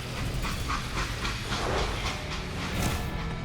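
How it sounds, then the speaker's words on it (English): Train rumbling and clattering with a steady hiss in the Western shooter Call of Juarez: Gunslinger, a dense continuous mechanical roar with rhythmic wheel knocks, loud and close, no talking. "Now, how'd they stop this train in the first place?"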